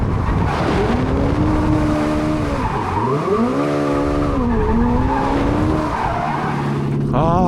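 Tires squeal loudly and continuously as a Hyundai RN24 electric sports car of 650 horsepower drifts, the pitch sweeping up and down with power, close and sustained throughout.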